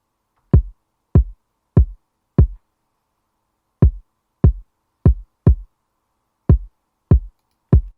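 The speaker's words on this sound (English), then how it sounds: "The last element I made is the kick." Punchy kick drum hits in a syncopated pattern, loud and dry, with gaps between groups of beats and nothing else playing.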